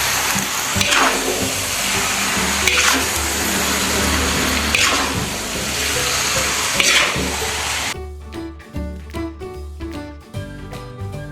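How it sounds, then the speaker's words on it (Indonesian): Beef rendang, a large three-kilogram batch, gets stirred in a pot, with steady loud bubbling and sizzling and a few clacks of the spoon. The sound drops away after about eight seconds, leaving softer scraping and faint background tones. "Aduk sampai merata."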